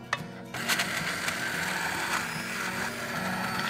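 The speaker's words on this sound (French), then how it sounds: "ma sauce, je vais la mixer" A blender mixing a sauce in a kitchen gives a steady, close whirring motor drone that runs continuously with slight rattling after a few brief clicks at the start.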